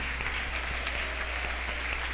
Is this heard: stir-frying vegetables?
no